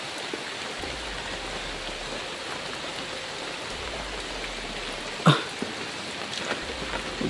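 Rain falling outdoors, a steady, dense hiss of drops close by, with a single sharp knock near the end.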